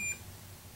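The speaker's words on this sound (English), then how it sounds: "You get the beep and you get a vibrate." A Snap-on Techwrench digital torque wrench gives a single short electronic beep at the start, quiet and close, then falls to a low room hum.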